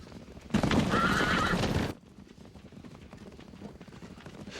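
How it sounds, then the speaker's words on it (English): Horses neigh in a loud, close whinny lasting over a second, followed by a steady patter of clopping hooves, fainter and continuing to the end. "Horses."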